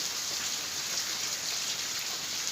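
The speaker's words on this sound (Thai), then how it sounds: "เข้าไปฟังเสียงธรรมชาติ เสียงฝนตกกันเลย" Steady, dense rain falling, a continuous hiss of drops on surfaces with no pauses.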